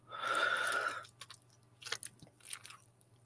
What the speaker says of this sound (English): That's the sound of my pot noodle.